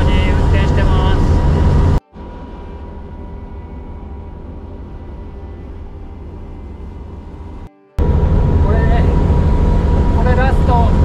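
A farm machine driven slowly while harvesting adzuki beans, its engine a loud, steady, close drone that continues throughout, interrupted by two abrupt breaks in the sound, with speech over parts of it.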